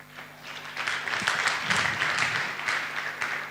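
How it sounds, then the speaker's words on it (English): Participants at a virtual launch ceremony clap after a presentation, a soft steady patter of many hands heard faintly and at a distance for a few seconds. "I would like to request even the participant to clap their hand for your good presentation."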